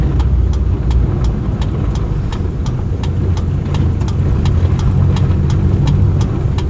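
A Kia Visto Zipdrive car circles a roundabout, its engine humming steadily from inside the cabin with road rumble underneath and a regular ticking, likely the turn signal, running throughout.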